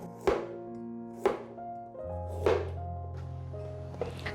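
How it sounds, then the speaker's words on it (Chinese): A knife cuts slices from a peeled carrot on a board with four separate, evenly spaced chopping thunks, each close and ringing briefly, against a quiet background. "把红萝卜切片。"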